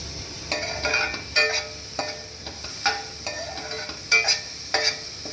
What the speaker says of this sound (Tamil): இந்த ஆனியன் சேர்த்துட்டு ஒரு நிமிஷம் இது நல்லா ஃப்ரை பண்ணி விட்டுக்கலாம்